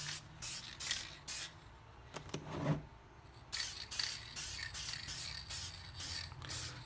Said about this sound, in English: now I'm going to take our matte enamel and of course spray it all down again